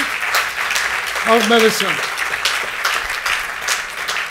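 Applause from an audience at the 2018 BOG awards and prizes ceremony fills the hall as a steady crackle of many hands, while a voice speaks briefly over it early on.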